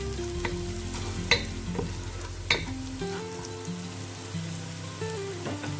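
Spices stirred and toasted in a hot pan for a chicken dish, a continuous close sizzle with occasional scraping stir clicks, with background music underneath.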